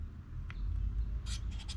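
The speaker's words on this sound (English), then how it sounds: "Usually scraping with the spine is not good enough to get the type of shavings that I need to start a fire." The spine of a knife scrapes fatwood into fire-starting shavings, giving a few short, crisp rasping strokes close by over low background rumble.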